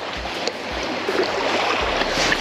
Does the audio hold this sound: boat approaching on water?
yes